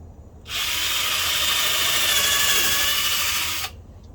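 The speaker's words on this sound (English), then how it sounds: "So in order for you to lock it, you have to drill one in here." A power drill whirs steadily for about three seconds, driving a one-inch screw, starting and stopping abruptly, close and loud with no talking.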